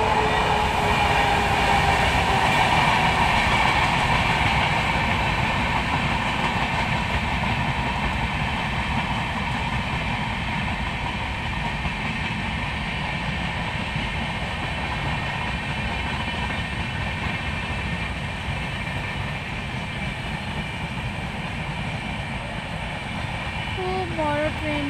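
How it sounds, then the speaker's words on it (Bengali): A long train rolls past close to a house beside the railway line, a loud continuous rumble and clatter of wheels that slowly fades over the whole stretch, with a whistle near the end. "ট্রেন আসছে, দেখবে তোমরা ট্রেন"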